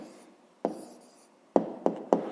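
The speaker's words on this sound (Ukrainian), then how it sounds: "Пишемо відповідь." A pen writes the answer to a fifth-grade maths exercise on paper: a soft scratch, then a few sharp, close strokes in a quick uneven rhythm, with no talking.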